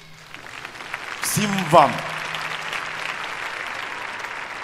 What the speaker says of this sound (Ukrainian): Оплески моїм друзям.